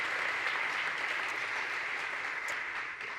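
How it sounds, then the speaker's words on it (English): Audience at a state arts and humanities awards ceremony giving a short, steady round of applause for the musicians, heard from a distance. "So a quick round of applause for them."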